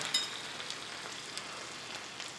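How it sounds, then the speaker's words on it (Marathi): Garlic sizzling in hot oil, just after the gas is turned off, for a tempering on village-style spinach buttermilk curry; a steady, close, fine crackling hiss runs throughout with no talk. "फोडणीसाठी तेल गरम झाल्यानंतर गॅस बंद करायचा यामध्ये लसूण घालायचा"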